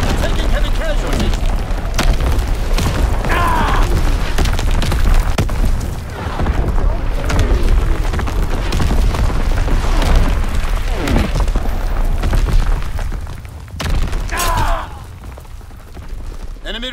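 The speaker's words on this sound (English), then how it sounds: "Incoming enemy artillery." Heavy artillery shells burst again and again in a video game battle, deep booms and crackling debris rolling through dense continuous combat noise, with radio-style voice callouts heard over the barrage.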